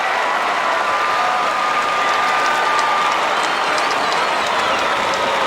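Geelong Cats supporters at a 2004 AFL football match roar and applaud after a goal, a dense, loud, sustained wall of crowd cheering and clapping that fills the stadium, with no break.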